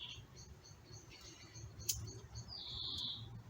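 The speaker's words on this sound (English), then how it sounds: "You hear a bird in the background" A bird chirps in the background in short repeated tweets over a low, steady rumble, with a brighter, longer trill near the end; no one speaks.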